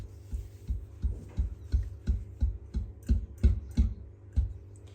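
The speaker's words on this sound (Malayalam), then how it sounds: "ഇതൊന്ന് ടാപ്പ് ചെയ്ത് കൊടുക്കാം. ഇതിൽ നിന്ന് എയർ ബബിൾസ് പുറത്തേക്ക് പോകുന്നതിന് വേണ്ടിയാണ് അങ്ങനെ ചെയ്യുന്നത്." A cake tin of strawberry vanilla batter is tapped against a surface to release air bubbles, giving a steady series of about a dozen close, dull knocks at an even rhythm with no talking.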